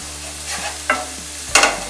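Flour stirred into a sizzling pan for a chicken and spinach lasagna: a soft frying hiss with a few distinct scraping strokes of a spoon against the pan, heard close and alone.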